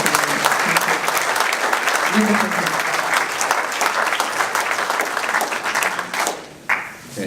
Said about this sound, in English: everybody deserves a round of applause